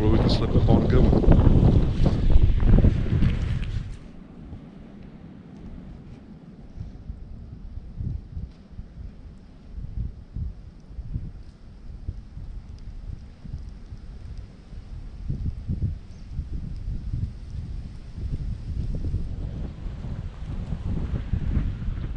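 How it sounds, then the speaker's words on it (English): Strong morning wind gusts through a national forest in wet conditions, a steady roaring rush with heavy buffeting on the microphone at the start, then a lower continuous blow. "We've got some high winds here this morning and some very wet conditions."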